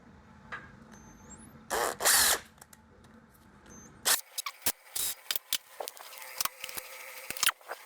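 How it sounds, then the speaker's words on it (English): A power drill whirs in two short bursts drilling holes in the interior of a 1974 Ford Maverick, then a string of brief clicks and taps follow, close by in a quiet space. "Let's drill some holes."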